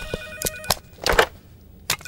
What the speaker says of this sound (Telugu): ఏంటి బాస్ ఫోన్ ఎత్తున రింగ్ ఆగట్లేదు?